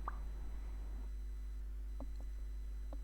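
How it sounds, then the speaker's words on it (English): Short notification chime from the detective notebook in the video game Blacksad: Under the Skin, a few faint soft beeps over a steady low hum, with no talking. "When a new entry is included, a notification will pop up."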